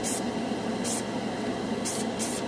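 Chrome spray paint from a can hits white plastic in four short hissing bursts, roughly evenly spaced, each a fraction of a second long, over a quiet room background.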